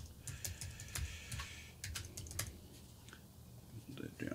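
Someone types a password on a computer keyboard, producing quick, irregular clicking keystrokes close by against a faint background hum.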